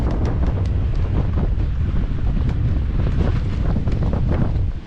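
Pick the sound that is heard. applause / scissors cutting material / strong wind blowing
strong wind blowing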